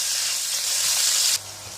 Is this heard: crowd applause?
no